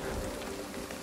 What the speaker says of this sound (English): Oh, it's hailing.